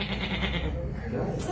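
A man imitates a goat's bleat with his voice, a wavering nasal cry sustained near and loud through most of the moment, with other voices murmuring around him.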